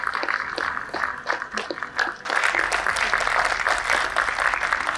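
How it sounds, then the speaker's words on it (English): An audience at a Uttarakhand Good Governance Awards ceremony applauds as an officer comes up on stage to receive an award. Scattered claps come first, then a dense, steady round of applause after about two seconds. "A huge round of applause, everyone."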